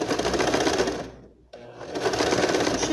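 Sewing machine stitching a fabric facing (revel), running in steady fast bursts with a brief pause mid-stitch before resuming, close and loud.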